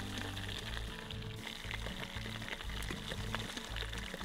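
Acid in the Teardown video game fizzes and sizzles steadily as it burns through objects, a constant crackling hiss with a low drone underneath.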